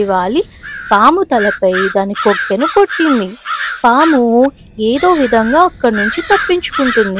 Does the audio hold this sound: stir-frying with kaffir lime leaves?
no